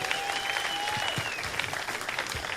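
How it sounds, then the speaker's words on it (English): A game show audience on the cruise ship Enchantment of the Seas breaks into loud, sustained applause, with a whistle rising above the clapping near the start. "How about a big round of applause for these beautiful ladies?"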